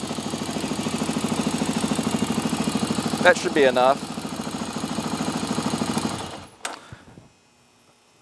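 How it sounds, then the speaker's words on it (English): A Honda TRX ATV engine idles with a steady, rapid mechanical chatter after an oil change, someone speaking briefly over it before the engine cuts off and falls silent. "start it up, let it idle for about 10 or 15 seconds"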